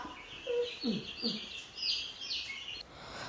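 Several soft clucks and short calls from chickens, fairly faint against a quiet outdoor background, spaced irregularly across the few seconds.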